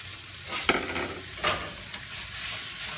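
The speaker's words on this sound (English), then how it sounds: "We'll throw in the vegetables." Vegetables hit a hot pan of caramelized meat, giving a steady close sizzle and frying hiss broken by a few sharp stirring scrapes, with no voices.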